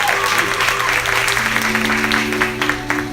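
Church audience at an anniversary service breaks into sustained applause, a dense crackle of many hands filling the room, with tonal music or hum underneath and some voices mixed in.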